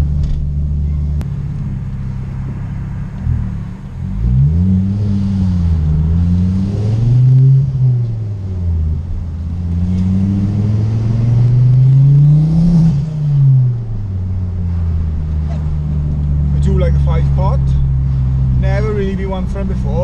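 A five-cylinder Ford Focus ST225 engine burbles and rumbles at low pitch, revving up and down in slow swells, with a person talking over it.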